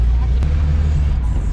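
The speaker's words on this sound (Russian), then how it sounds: "И движемся на такой вот ретро автомобиле." A retro car drives near Luxor, Egypt, its low engine rumble and road noise running steadily throughout beneath people talking.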